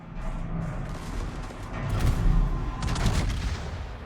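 Gneisenau battleship main guns firing in World of Warships, a continuous rumble of heavy booming salvos that swells louder near the middle and again toward the end, with no voices over it.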